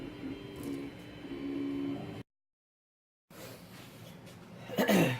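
A Tevo Tornado 3D printer runs a print job with a steady whirring hum of stepper motors and tonal whines, cutting out briefly before resuming, close and moderate in level with no clear talk.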